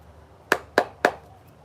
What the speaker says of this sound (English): I'm going to do one more shuffle for the collective